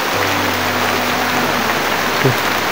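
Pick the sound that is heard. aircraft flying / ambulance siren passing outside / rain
rain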